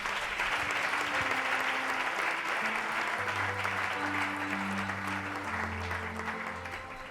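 A church congregation applauds in steady, sustained clapping throughout, with a held organ or keyboard chord underneath and voices faintly mixed in.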